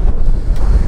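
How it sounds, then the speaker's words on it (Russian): Strong southwesterly wind buffets the microphone in open farmland in Akmola Region, Kazakhstan, with a loud, steady low rumble, roaring without pause through the whole brief moment. "Ветер сильный, юго-западный,"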